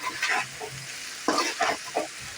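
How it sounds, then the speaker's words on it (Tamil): Boiled pasta being sautéed with onion and tomato in a pan, a constant sizzle with a few rhythmic stirring scrapes close by, no voices. "வெந்நீரில் வேக வச்சிருக்கிற பாஸ்தாவை சேர்த்துக்கலாம் வெங்காய தக்காளியோடையே சேர்த்து நல்லா வதக்கி விட்டுப்போம்"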